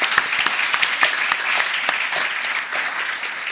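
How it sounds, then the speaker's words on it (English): A conference audience at an accountancy industry digital innovation event applauds steadily, with dense continuous clapping throughout. "Big round of applause for them."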